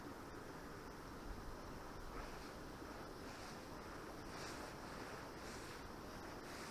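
Wind gusts by a river on an October pike-fishing outing in light drizzle, a faint, continuous broadband rush with soft swells and small waves lapping, no voices.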